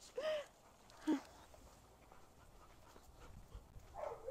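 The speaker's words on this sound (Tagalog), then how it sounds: "yung aso kong kulit." A dog whimpers and gives short breathy pants in two brief bursts near the start, followed by quiet room noise and a faint whine at the end.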